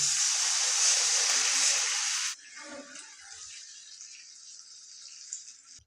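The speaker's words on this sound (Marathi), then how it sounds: "आता हे मिक्स मस्तपैकी फोडणी झालेली आहे तर याच्यात घालूया आपण दोन ग्लास पाणी" Two glasses of water are poured into a hot tempering for vermicelli upma, giving a loud, close rushing splash for about two seconds that then settles into a quieter, steady hiss.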